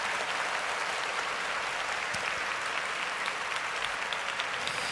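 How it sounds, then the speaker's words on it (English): A round of applause from a studio audience on a sports talk show, an even, sustained wash of clapping at moderate loudness, with no talk over it. "Give me a round of applause for just thinking."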